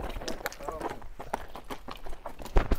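Hooves of a tall Kyrgyz horse clop at a horse market on a hot day, a steady run of fairly soft beats with a couple of sharper strikes near the end, mixed with voices talking nearby.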